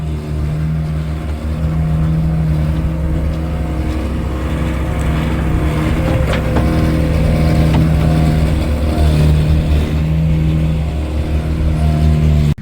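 A skid steer engine runs steadily and loud throughout while hauling extra backfill dirt up to the front after a conduit repair on a drain dig, with a sustained low droning hum and slight shifts in revs.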